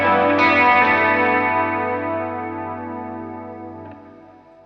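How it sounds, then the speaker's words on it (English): Electric guitar run through a chorus effect and a boost pedal alongside stereo reverb and a King of Tone overdrive, a single strummed chord ringing out with shimmering modulation, then a second softer strike near the end as it decays. "Add in my chorus and my boost."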